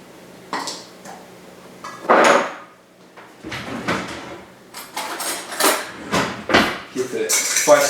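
Spices stirred in a cooking pan, a fork clinking and scraping against metal in irregular bursts of sharp clatter, close by, with brief quiet gaps between strokes.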